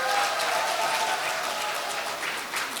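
An audience at a large Buddhist memorial ceremony applauding, a dense sustained wash of many hands clapping that fills the hall at a steady level.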